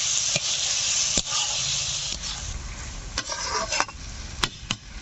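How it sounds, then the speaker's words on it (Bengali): Lote fish pieces sizzle loudly in a hot pan of masala, a continuous close frying hiss broken by several sharp clicks and scrapes of a spatula as they are stirred in. "মাছগুলো দেওয়ার সাথে সাথে মশলার সঙ্গে ভালো করে মিশিয়ে নিতে হবে।"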